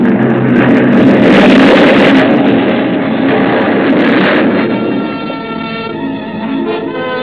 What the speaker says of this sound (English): Exploded right on top of Whitney and the members of the crew.